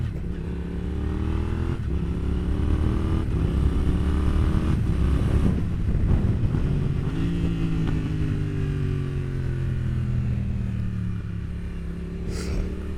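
A motorcycle without a quickshifter accelerates hard, its engine note climbing and then dropping at each clutchless gear change. The droning exhaust rises through several shifts, loud and continuous.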